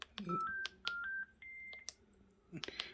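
Button beeps from a Panasonic long-range video baby monitor as menu keys are pressed, a series of short electronic tones in quick succession, close and clear, with faint talk in the background.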